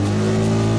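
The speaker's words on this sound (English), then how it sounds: "it was time to open up the single-cylinder, 12-horsepower engine" A single-cylinder, 12-horsepower engine drones loud and close as it accelerates, with a steady, strongly tonal hum filling the whole moment.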